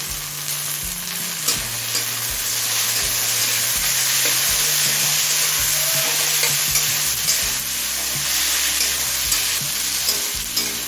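Chopped tomato frying with onions and whole garam masala, a loud, dense, continuous sizzle close by, broken by regular scraping strokes of a spatula through the pan.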